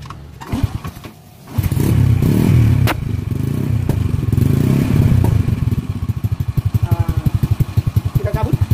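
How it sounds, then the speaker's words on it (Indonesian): A motorcycle engine running on its original factory CDI starts after a clatter and some thumps, then settles into a loud, steady idle with a rhythmic putter near the end, recorded close in a workshop. "Kita hidupkan mesinnya."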